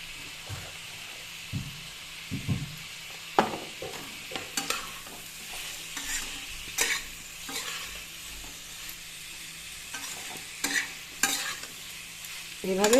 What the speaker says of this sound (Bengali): এভাবে তরকারিটা সাঁতলিয়ে নেব